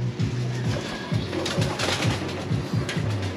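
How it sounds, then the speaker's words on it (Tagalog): Pet pigeons on a rooftop coo in repeated soft, throaty bursts, close by and fairly loud, with a faint background hiss. "Yan ang ating mga alagang ibon"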